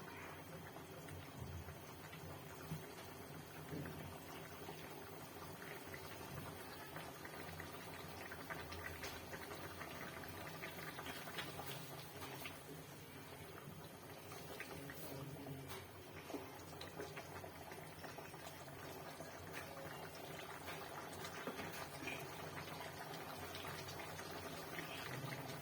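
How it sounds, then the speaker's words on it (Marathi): A pot of Kolhapuri chicken curry boils steadily on the stove, giving a continuous bubbling hiss and low simmer that stays even and moderately quiet throughout, with no talking. "भाजीला आता चांगल्या प्रकारे उकळी आलेली आहे"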